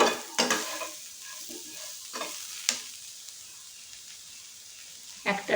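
Ridge gourd, potato and peas fry in a pan with a continuous soft sizzle while a spoon stirs them, giving several sharp scraping clacks against the pan, close and clear with no talk.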